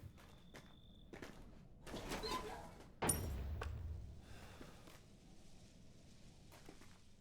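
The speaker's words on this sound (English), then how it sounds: "Go through the wooden door directly in front, be careful of the traps inside." A wooden door opens in Resident Evil 7 with creaks and a sudden loud thunk, then a lower rumble that fades, alongside faint footsteps in a quiet room.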